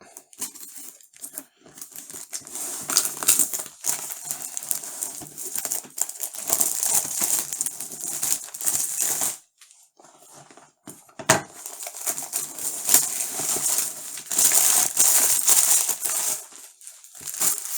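A knife slicing open the packaging of an Antec HCG750 Gold power supply, with close crinkling and tearing of plastic and cardboard in bursts, a brief pause midway, then more scraping and rustling.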